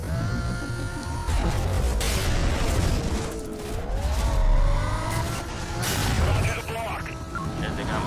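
Car engine surging under nitrous boost in Need for Speed Most Wanted, loud revving with rising and falling pitch sweeps and crashes, while a person talks over it.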